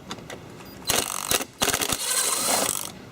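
A plastic part is unscrewed during a Jeep Gladiator sunshade installation. Close, crisp ratcheting clicks come in irregular bursts, with brief pauses between runs and a longer stretch of grinding clicks at the end. No voices.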